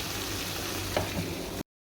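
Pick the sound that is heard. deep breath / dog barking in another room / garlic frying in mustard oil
garlic frying in mustard oil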